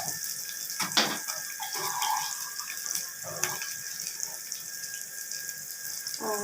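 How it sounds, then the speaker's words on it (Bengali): Water runs in a steady, splashy stream while being poured into a pan for cooking a swamp barb fish curry, fairly quiet and close, with a few faint knocks and no talking. "সরপুঁটি মাছটা কষানোর জন্য একটু পানি দিয়ে নেবো"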